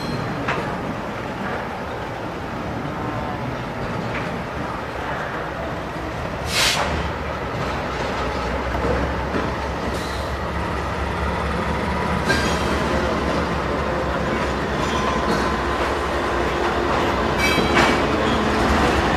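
A train rolls past on the rails with a steady, loud rumble and clickety-clack, with a few metallic squeals and clanks rising over the continuous noise, and no talking.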